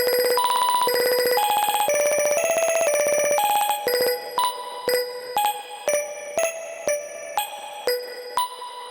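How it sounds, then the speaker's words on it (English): A Midicake ARP hardware sequencer plays a bright bell-like synth melody. The notes ring out, then are re-triggered into quick stuttering bursts, giving a rapid repeated drill-like rhythm with no voices. "re-triggers notes to create a stutter or drill effect that works great for monosynths or percussion"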